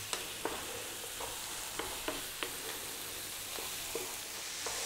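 Cumin and sauce fry in a pan over above-medium heat with a soft, steady sizzle, broken by a handful of light spoon scrapes and taps as it is stirred. No voices.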